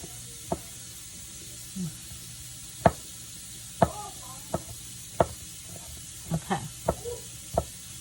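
A knife chops garlic finely on a cutting board in a home kitchen, with about a dozen sharp, irregular taps spread out and close by against a faint background hiss.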